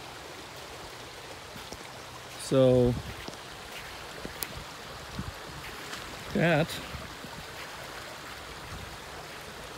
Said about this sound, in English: There's water flowing.